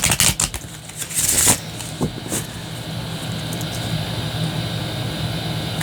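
Quick riffling bursts of tarot cards being shuffled at the start, then a quieter stretch of faint handling noise.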